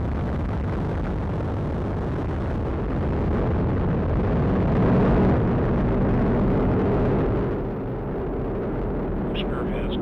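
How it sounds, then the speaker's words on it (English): Atlas V rocket liftoff at launch, a broad, crackling roar that swells and then eases slightly, heard over a launch commentator's voice. "Liftoff of the United Launch Alliance Atlas V rocket carrying the NROL-52 mission for the National Reconnaissance"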